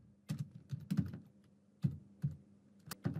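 Someone types a message on a computer keyboard, with soft, close keystrokes coming in short irregular clusters separated by brief pauses.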